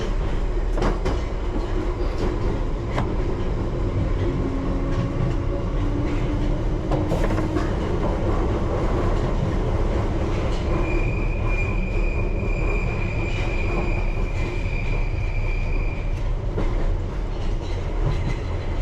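A London Underground Piccadilly line train rolls into the platform at Hammersmith, with a continuous loud rumble of wheels on rails, clicking joints and high wheel squeals, heard from inside the train.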